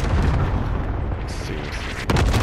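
Heavy, continuous rumbling blasts from a cluster strike in Call of Duty Modern Warfare, a dense low roar of overlapping explosions with a sharper thump near the end, loud throughout.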